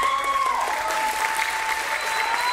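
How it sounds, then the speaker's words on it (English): A bodybuilding competition audience applauds steadily at an award presentation, dense continuous clapping heard from inside the hall, with faint talk and a sustained musical tone running underneath. "give us applause, my man."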